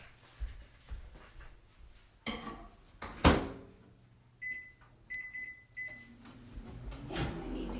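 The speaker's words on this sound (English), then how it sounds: "going to add the peanuts and microwave on high for 2 minutes" A microwave oven heating a peanut candy mixture, with a faint low hum and a few clunks and door or handling knocks, then a series of short electronic beeps, all quiet and close.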